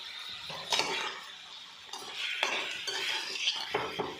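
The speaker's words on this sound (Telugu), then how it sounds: "కొత్తిమీర, కరివేపాకు వేసి బాగా కలయిపోవాలి" Jowar dosa batter being stirred with coriander, curry leaves and tamarind, a utensil scraping and clinking against a metal bowl in repeated close strokes, with no talking.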